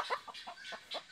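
A ginger broiler hen on a pasture farm gives a quick run of five soft, nasal clucks, close and fairly faint, with no voices.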